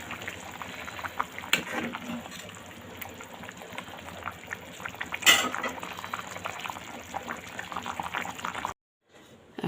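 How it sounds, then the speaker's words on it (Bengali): Fish and ash gourd curry at a rolling boil in a pot, making a steady, fairly quiet bubbling and sputtering that carries on throughout and then cuts out briefly near the end. "তরকারি বলক চলে এসছে।"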